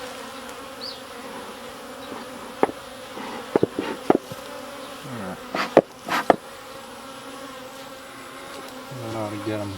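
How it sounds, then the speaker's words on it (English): Honey bees buzzing steadily around a hive during a beekeeper's inspection with smoke, a continuous close drone with a few sharp knocks and a brief spoken word over it. "You got bees all over here"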